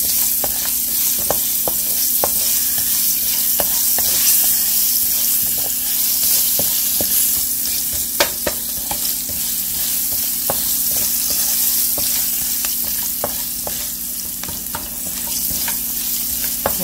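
Potatoes sauté with ginger and green chilli in a pan, giving a steady close sizzle of frying with repeated sharp clicks and scrapes of a spoon stirring throughout.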